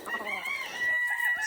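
A molting rooster crows nearby in a backyard flock, a drawn-out strained call held over steady background noise.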